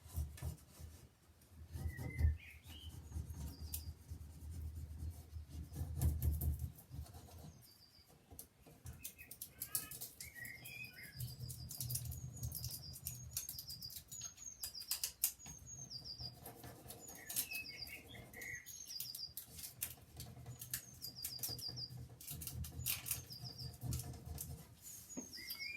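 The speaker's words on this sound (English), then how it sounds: "No, that's just our wild sparrows and blackbirds and nothing fancy like cockatiels." Wild sparrows and blackbirds chirp outdoors, with scattered high calls coming and going over a low rumbling background and occasional rustling or flapping sounds, no talking.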